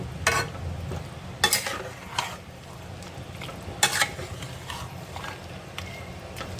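Mutton being mixed and stirred with a metal spatula in a pan, scraping strokes coming in irregular bursts over a low sizzling background, close and moderately loud with no voices.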